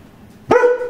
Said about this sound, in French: Je rêve ou c'est déjà le chien qui veut rentrer?